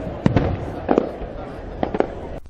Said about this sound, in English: Fireworks over Perth's skyline, capping off a day the country came together to commemorate the nation.